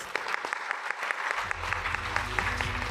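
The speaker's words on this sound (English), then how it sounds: "Please join me in a round of applause to both the ministers." A conference audience applauds two ministers on a panel, with a steady patter of many hands clapping at moderate distance, filling the room with no voices on top.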